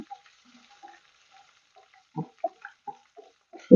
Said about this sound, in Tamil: சின்ன வெங்காயம், கருவேப்பிலை போட்டுக்கலாம். எல்லாம் சேர்த்து நல்லா வதக்கலாம்.